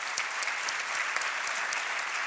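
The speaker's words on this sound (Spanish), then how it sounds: "Voy a pedir otro aplauso antes de empezar la mesa." Audience applause at a panel discussion, a dense, steady clapping from a crowd filling the room throughout, with no speech over it.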